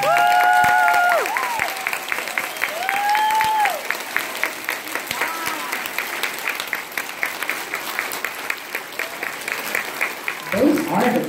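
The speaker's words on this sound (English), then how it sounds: "Let's give them a nice big round of applause" Families and friends applaud the students of the month at a school ceremony. Clapping and light cheering run through the scene, with some whistles or high voices near the start and a voice speaking toward the end.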